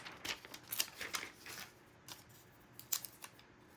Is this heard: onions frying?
no